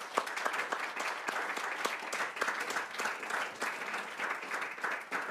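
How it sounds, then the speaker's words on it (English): An audience applauds a conference panel with dense, continuous clapping from a sizeable crowd that holds steady throughout. "big round of applause."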